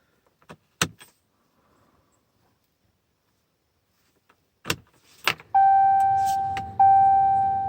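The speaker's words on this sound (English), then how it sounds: "We're going to put a key in a run position for 4 seconds. Then cycle to the off position and do it 7 times" Ignition key turned to run on a 6.7 Cummins pickup: a few clicks and a clunk, then a steady electric whine with a tonal hum that holds for several seconds, briefly restarts, and continues close and loud.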